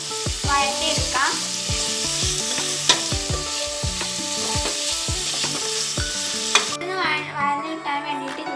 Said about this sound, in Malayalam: ടൊമാറ്റോ, ഒരു പച്ചമുളക് എന്നിവ ചേർത്ത് കൊടുക്കാം. നല്ലോണം മിക്സ് ചെയ്യാം. നല്ലോണം വഴറ്റിയെടുക്കാം.